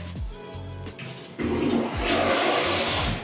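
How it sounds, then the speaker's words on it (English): A smart toilet in a home bathroom flushes on its own, a rushing, hissing surge of water that starts after some low thumps and keeps going loudly to the end. "It's going through, it's flushing the toilet because it knows I just sat on it."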